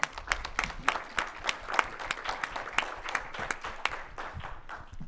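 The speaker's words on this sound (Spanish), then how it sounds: "Un fuerte aplauso, por favor." An audience at a forum on information in social conflict applauds a speaker, many hands clapping in a fairly quiet, even patter with distinct individual claps standing out.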